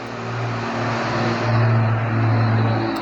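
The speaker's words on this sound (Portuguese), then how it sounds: "esperando o caminhão passar na rua" A truck passes along a street outside, a steady low engine drone with broadband rumble that swells slightly midway and holds for about three seconds, with no voices.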